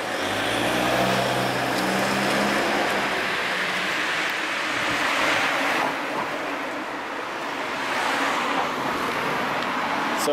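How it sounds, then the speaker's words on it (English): Flooded Danube river water near a bridge, a broad steady rushing wash like heavy flow, mixed with low traffic-like rumble that fades after the opening seconds. "And there's some flood water below it."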